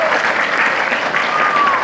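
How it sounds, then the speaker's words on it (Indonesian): Sustained, vigorous applause from a large religious-lecture audience, a thick continuous roar of clapping hands, loud and even, with faint voices mixed in. "Ayo tepuk tangannya."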